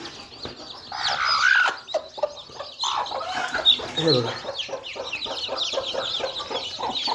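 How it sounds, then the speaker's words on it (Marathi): A single hen clucks among about a hundred day-old chicks peeping close by, a busy mix of short calls, while someone speaks briefly. "शंभर पिल्ले एकटी कोंबडी आहे"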